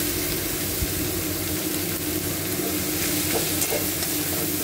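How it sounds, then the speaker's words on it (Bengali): Chopped banana flower goes into spices already fried in hot oil, for a dish with chana and mung dal. A loud, steady sizzle and frying crackle continues throughout, with faint stirring scrapes and no talking. "এখন মশলাগুলো ভাজা হয়ে গেছে। এখন আমি এই মোচাটা আমি দিয়ে দিচ্ছি"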